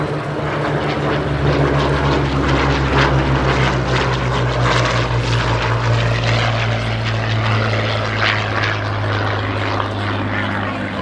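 A Hawker Hurricane propeller aircraft drones steadily and loudly close by at the 2017 Dunsfold airshow, its engine holding an even, smooth tone with a strong low hum throughout.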